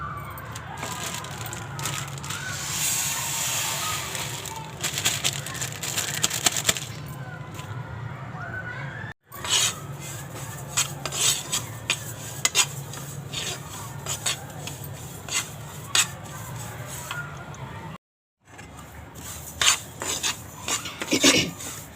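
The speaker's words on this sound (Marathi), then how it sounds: "आता दुसरे उरलेले आहेत ते भाजून घेते." Sesame seeds are roasted in a pan, giving a dry scraping and rattling under continuous stirring, with a faint siren-like tone in the background and two brief dropouts.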